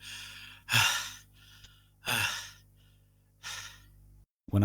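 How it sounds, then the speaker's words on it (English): Heavy, labored breaths from a visual novel game sound effect, three loud sighing exhalations in a row with quiet gaps between them and a brief cut at the end. "everything is quiet, except for my really heavy breathing"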